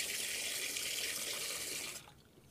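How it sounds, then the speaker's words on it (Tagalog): A bathroom tap runs with a strong, steady, hissing gush of water, heard close and alone, then abruptly shuts off near the end. "Ang lakas ng tubig dito."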